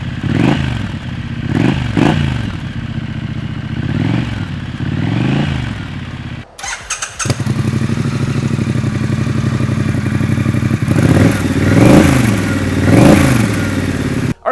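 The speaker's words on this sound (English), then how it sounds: "let's see how this pipe sounds" A Triumph Bonneville motorcycle fitted with a new exhaust pipe is revved loud and close, giving repeated rising and falling blips in a rhythmic series, then a brief dropout and a sustained higher idle before more revving, with no talking.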